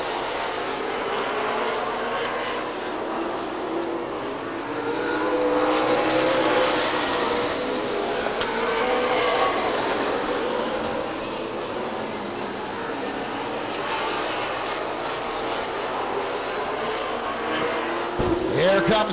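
Stock cars at Stockton 99 Speedway roaring past in a race, a loud sustained engine drone swelling and fading as the field goes by, with an announcer's voice running over it.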